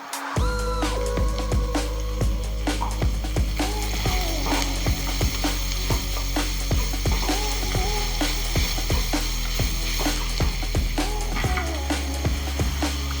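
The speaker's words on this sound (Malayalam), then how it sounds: "നമുക്ക് ഈ ഉള്ളിയൊക്കെ ഒന്ന് നന്നായിട്ട് വഴണ്ട് വരാൻ വേണ്ടിയിട്ട് ശകലം ഉപ്പിട്ട് കൊടുക്കാം." Sliced onions with a pinch of salt fry in hot oil for a Kerala-style chicken curry, a continuous close sizzle broken by regular scraping of a spoon stirring the pan, no voices.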